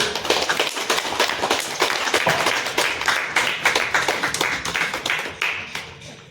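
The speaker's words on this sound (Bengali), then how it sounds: "সবাই একটু প্লিজ হাততালি" An audience at a National Youth Day school programme claps hands together, a lively run of sharp, closely spaced claps that holds steady for several seconds before thinning out at the close.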